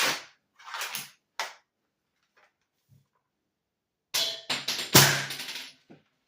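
A modified Kirin Type A toy dart blaster firing Bamboo 2.0 darts: sharp, close pops with mechanical clatter, a few single shots, a quiet gap, then a quick cluster of louder shots.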